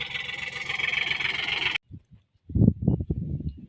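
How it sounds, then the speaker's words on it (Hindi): A tractor engine runs on a farm where wheat is sown, a loud, steady rumble for about two seconds that cuts off abruptly, followed by short irregular bursts of closer sound. "ट्रैक्टर चालू छॾे आहियूं अँ"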